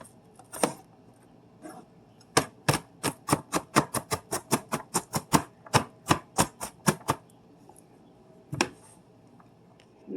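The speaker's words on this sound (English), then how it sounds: "Kind of run your knife all the way through here so there's no really large pieces of onion." Onion being chopped with a knife on a board, a rapid run of about twenty crisp, evenly spaced close knocks after a couple of scattered cuts, with no talk.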